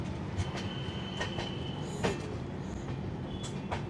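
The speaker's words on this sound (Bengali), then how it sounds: "প্ল্যাটফর্ম নাম্বার 5 থেকে ব্যান্ডেল থেকে ট্রেন ছেড়ে বেরিয়ে যাচ্ছে" The Paharia Express, a train of LHB coaches, pulls out of platform 5 at Bandel station. A steady rumble of rolling coaches is heard close by, with faint squeals and clicks from the wheels over the rails.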